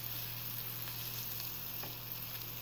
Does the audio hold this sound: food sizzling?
yes